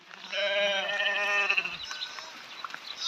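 One lamb gives a single long, wavering bleat, close and clear for over a second. Quieter scuffling and background noise follow.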